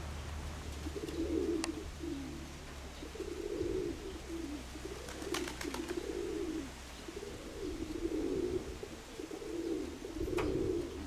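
Pigeons coo in a repeated soft, low rhythm, with occasional faint clicks over a steady background hum.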